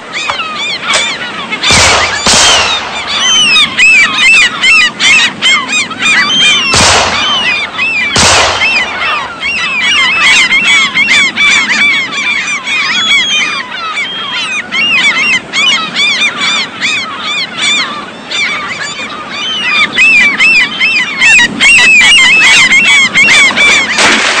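Geese honk loudly and continuously close by, a dense chorus of overlapping calls broken by several sharp gunshot-like bangs early on, with no talking.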